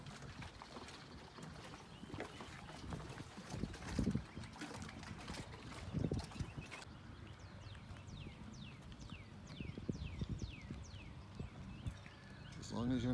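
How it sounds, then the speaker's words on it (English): Irregular metallic clanks and knocks of a sailboat halyard slapping the mast repeat against steady wind and water noise, with a voice speaking in places. "A little halyard banging there."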